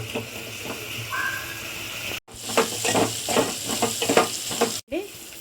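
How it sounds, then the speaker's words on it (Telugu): Ridge gourd peels frying in a pan with salt hiss steadily up close, broken by repeated scraping and tapping spatula strokes as they are stirred, with two brief cuts to silence. "ఇప్పుడు దీన్ని మనం మంచిగా ఫ్రై అయ్యేంత వరకు ఇలా వేయించుకోవాలండి చక్కగా."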